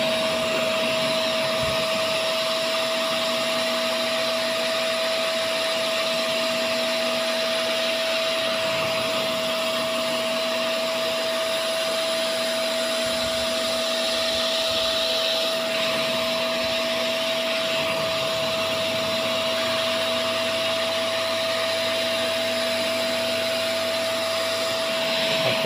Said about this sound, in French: Maintenant on va aspirer.